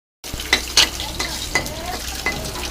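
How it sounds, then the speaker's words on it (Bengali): Bay leaf and dried chili crackle in hot oil in a pan, a close steady sizzle punctuated by several sharp scraping stirs and clinks of a spoon against the metal. "তেলে তেজপাতা গরম, তারপরে হচ্ছে এটা কি বলে শুকনো মরিচ, সেগুলো দিয়ে দিয়েছি"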